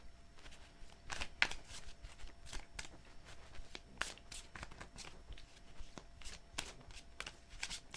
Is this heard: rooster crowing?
no